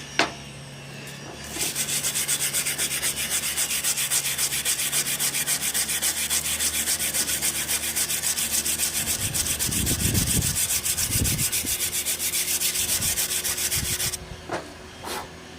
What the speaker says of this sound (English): This is just some cheap 60 grit drugstore sandpaper here, nothing special.